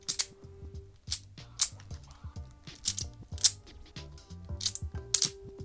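Rubik's Cube-like puzzle toy handled close up, with a steady run of small plastic clicks and snaps in an irregular rhythm, quiet and alone without talk.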